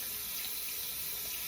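Water runs steadily from a faucet to rinse makeup brushes, a constant close hiss and splash into a sink with no breaks or voices.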